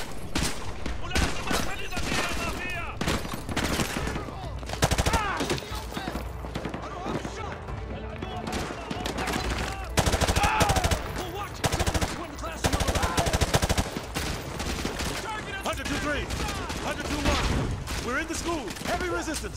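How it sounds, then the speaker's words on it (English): Heavy gunfire in Modern Warfare 2: sustained loud machine-gun bursts and rifle shots crackling almost nonstop at close range, with soldiers shouting over the battle. "We're taking heavy fire from the school."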